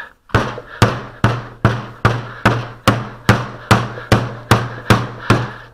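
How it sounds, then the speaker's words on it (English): Old putty is beaten and folded to remix it, making a run of about a dozen evenly spaced, heavy slapping thuds, each with a short decay, loud and close with no voices. "found that by beating on it and folding it like this, about 15 or 16 times, gets the putty pretty thoroughly remixed."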